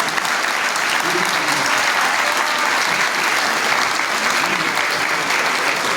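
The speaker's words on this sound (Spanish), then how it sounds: "yo sí les pido un aplauso" Audience applause for workers at a university economics lecture, a dense, steady wash of clapping held at even loudness for several seconds.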